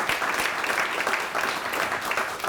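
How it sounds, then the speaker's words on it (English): Dense, steady audience applause for a speaker at a TiE Talks session, a continuous loud roar of many clapping hands with no pauses. "Let's give him a big applause."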